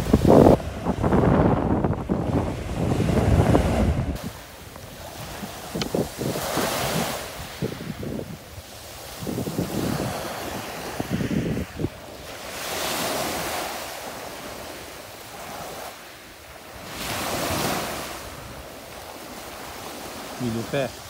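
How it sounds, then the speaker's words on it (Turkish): Ocean waves surge and break on the shore in repeated swells, with wind buffeting the microphone and a few brief voices in the opening seconds. "Şimdi gene denizi dinletelim."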